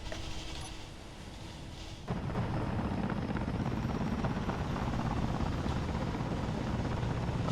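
Helicopter in the video game Ares at War, a steady loud rotor drone that jumps up after a brief quieter lead-in and then holds constant throughout.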